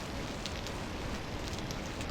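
Rain pours steadily in the video game Vintage Story, a loud, uniform wash of falling drops with no breaks or voices.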